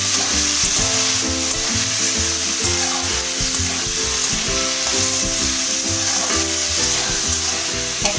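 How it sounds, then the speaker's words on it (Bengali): Prawns marinated in salt and turmeric fry gently over a low flame, giving a steady soft sizzle beneath loud continuous music. "এবার আমি লো ফ্লেমে মাখিয়ে নুন হলুদ মাখিয়ে রাখা এই চিংড়িগুলো ভেজে নেব।"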